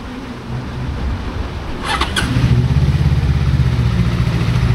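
An FKM 400cc motorcycle engine on a test ride, a steady low engine hum that grows slightly louder and rougher after a couple of seconds, with a brief faint high chirp partway through.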